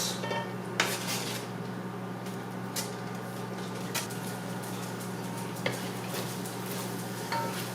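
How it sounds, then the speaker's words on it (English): Onions and ají mirasol paste frying in a pan for Peruvian ají de gallina, with a steady low sizzle and scattered clinks of utensils against the pan throughout. "So we are going to let this fry and cook really well."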